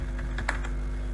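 A few quick keystrokes tap on a computer keyboard, light clicks clustered in a short burst over a steady low hum, with no voices.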